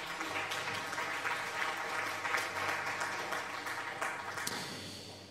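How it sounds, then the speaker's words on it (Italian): Applause of many hands at fairly even loudness, fading a little toward the end, with a sharp ping near the close. "intanto vi faccio un applauso naturalmente"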